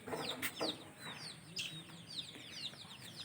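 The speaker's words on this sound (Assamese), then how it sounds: "ইপিনে সৰু আছে মুৰ্গী কেইটামান" Local chickens on a small farm in Assam, a few of them about ten days old, cluck and give short high chirping calls in a steady, close run with no talk over them.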